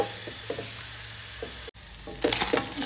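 Chicken for keema naan stirred and roasted in a pan, a steady loud sizzle running throughout with a few scraping stirs and a brief break before the frying swells again.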